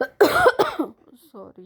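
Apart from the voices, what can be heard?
cough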